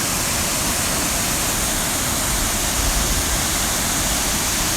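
Tortum waterfall in winter roars in a dense, constant rush of falling water, loud and steady from start to finish with no voices.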